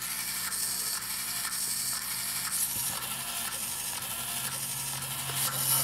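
A hobby servo motor driven by an Arduino, working under load and reversing direction, gives off a steady high mechanical whine and gear buzz with faint clicks as it changes direction.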